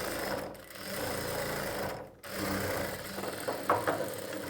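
A sewing machine stitches the lining and main fabric of a round-neck blouse, running in a fast, steady mechanical chatter close up, with two brief stops before it picks up again.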